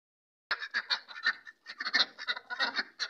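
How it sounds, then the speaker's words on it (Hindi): A duck quacks repeatedly in a rapid, chattering run of nasal calls, close by, after a brief moment of silence at the start. "मेरी बतख है,"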